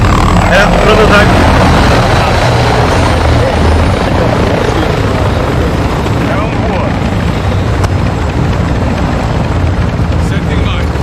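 A Modern Warfare II video game helicopter roars loud and steady throughout, its thick rotor and engine drone filling the scene while voices talk over it.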